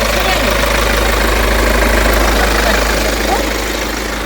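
A 2015 Hyundai Grandeur HG engine idles steadily at close range, producing a constant low rumble and mechanical hum with no change in pace.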